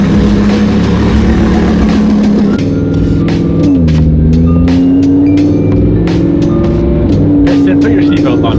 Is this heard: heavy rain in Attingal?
no